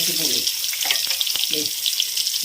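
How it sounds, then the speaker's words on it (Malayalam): Onion and chilies frying in coconut oil already used to fry dried prawns, a steady close sizzle with soft stirring scrapes throughout. "ഉള്ളിയും മുളകും ഒന്ന് മൂപ്പിച്ചെടുക്കണേ"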